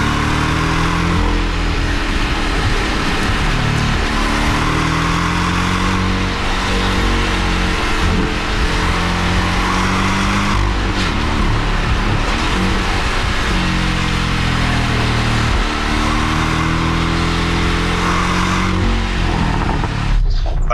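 A Porsche 718 Boxster T with a 2.0-litre engine and a manual gearbox revs loudly and continuously for about twenty seconds. Its pitch rises and falls through the gears, with light popping from the exhaust.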